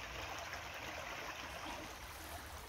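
A small canal or stream runs with a soft continuous trickle and gurgle, faint and steady, while it is crossed during a rural hunting outing.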